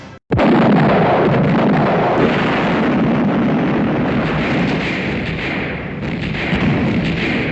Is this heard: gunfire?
yes